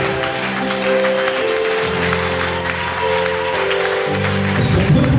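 Congregation at a Sunday French-language church service applauds, a broad wash of clapping layered over sustained organ or keyboard chords that shift pitch partway through.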